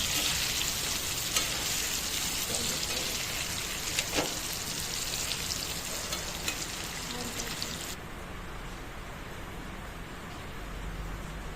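Chicken with turmeric and salt sizzles steadily in a pan while being stirred, a continuous broadband frying hiss with occasional scraping clicks, close and fairly loud, with no talking.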